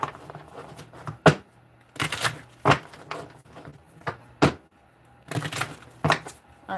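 Cards are shuffled in a series of sharp riffling bursts, each quick and crisp, separated by short pauses, close and fairly loud.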